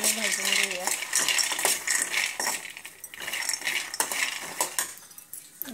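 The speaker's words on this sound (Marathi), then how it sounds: "आता आपण हे शेंगदाणे भाजून घेऊया." Peanuts roasting in a pan over a low gas flame are stirred with a metal spoon, giving rattling, scraping clinks against the pan that come close and loud in irregular bursts.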